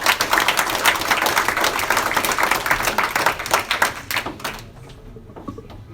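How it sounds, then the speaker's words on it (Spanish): A church congregation claps loudly together in dense, sustained applause. The clapping thins into scattered claps and then fades out near the end. "Démosle un fuerte aplauso a nuestro Dios."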